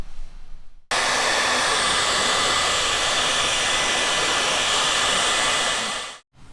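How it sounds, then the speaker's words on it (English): Heat gun running to shrink resin-lined heat shrink crimp connectors during a 12V touring vehicle wiring install, a steady loud blowing roar that starts abruptly, holds for about five seconds and cuts off. "We've used a heat gun and there's resin lining in there, so it's sealed those connectors up."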